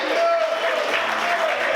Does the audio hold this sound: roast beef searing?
no